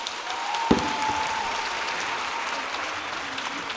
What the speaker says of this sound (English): Please give them a huge round of applause as they leave.